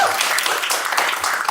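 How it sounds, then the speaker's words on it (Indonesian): An audience claps and cheers at a band talk event, a dense continuous wash of clapping that stays steady and fairly loud throughout. "Tepuk tangan."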